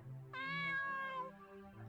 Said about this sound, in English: Just meow.